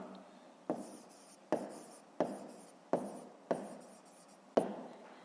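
A pen writes and taps on paper during a fifth-grade maths exercise, making about seven sharp, close strokes that each fade out, spaced roughly evenly apart.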